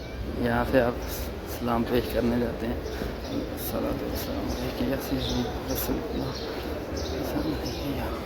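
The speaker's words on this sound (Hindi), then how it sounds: "चिड़ियाँ बोल रही हैं माशाल्लाह, कितनी प्यारी आवाज़" Small birds chirp and coo outside a mosque in Madinah, light repeated calls mixed with crowd ambience while someone talks over them throughout.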